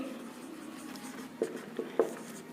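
Chalk or marker writing on a board during a maths lesson gives a few faint scratchy strokes and taps over quiet room tone.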